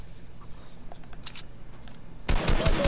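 Video game gunfire bursts loudly at the end as a rapid automatic volley, following a stretch of quiet rustling and a couple of short clicks.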